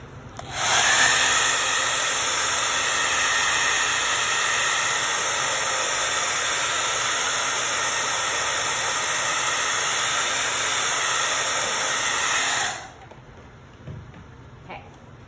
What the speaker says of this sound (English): I'm going to hit mine with the blow dryer real quick